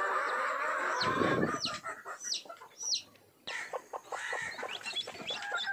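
Chickens clucking and squawking nearby in a coop on a poultry farm, a busy, overlapping chorus with sharp calls scattered throughout and a burst of flapping noise.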